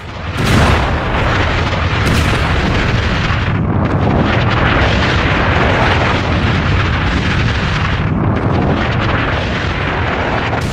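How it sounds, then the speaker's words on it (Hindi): Iranian missiles striking Tel Aviv, Israel, in news footage: a loud, dense, sustained roar of blasts and rumbling detonations with rolling low booms and crackling debris, filling the whole scene without any voices. "ये तेल अवीव में आकर ईरानी मिसाइल हिट हुई है।"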